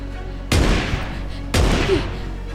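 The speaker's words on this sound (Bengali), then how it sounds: "এ তো গুলির শব্দ।" Two sharp gunshots ring out in a night scene of a 1971 Independence Day drama, spaced about a second apart, each loud blast followed by a short echoing decay.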